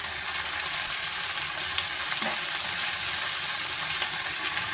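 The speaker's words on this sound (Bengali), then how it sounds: "নুন দিয়ে ভালো করে আমি ভেজে নেব কুঁদরিটা পেঁয়াজ আর টমেটোর সাথে, একদম লাল করে।" Ivy gourd fries in a pan with onion, tomato and salt, giving a steady, loud sizzle and crackle throughout, with a brief stir partway through and no talking.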